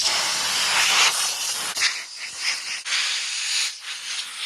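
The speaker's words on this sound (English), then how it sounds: "I'm just gonna use some light air pressure with the air compressor and just blow some of this hair out" An air compressor blows light bursts of air through a PlayStation 1 console to clear out hair, a loud continuous hiss that pulses and briefly cuts off several times, close up.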